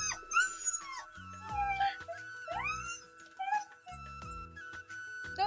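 A tied-up dog whines and whimpers in repeated high, wavering cries, with short yips mixed in, fairly close by amid a steady background hum.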